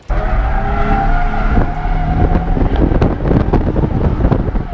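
A mostly stock Nissan 350Z with an intake and welded differential drifts, its engine roaring loudly up close as the tires squeal and skid in long, wavering bursts, with wind rushing over the microphone.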